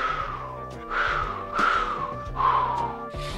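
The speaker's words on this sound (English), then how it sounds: "Maybe if I whistle, I won't be scared." Cartoon cat trying to whistle, producing a few breathy, wavering whistle tones in short repeated bursts over a quiet music background.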